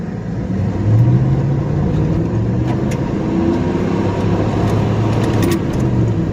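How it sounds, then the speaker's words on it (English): Chevrolet Silverado pickup engine idling and revving, a loud steady low rumble with rising and falling engine tones close by, no talking. "We're out here taking our Silverado that's full of tornadoes under the hood."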